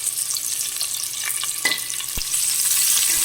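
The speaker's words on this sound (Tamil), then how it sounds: "உடனே வந்து ஆனியன்ஸை போட்டுடலாம். ஆனியன்ஸை வந்து வதக்கிக்கலாம்." Onions sauté in a hot pan in a home kitchen, giving a steady bright sizzle with a few sharp clinks and stirring scrapes, growing slightly louder toward the end.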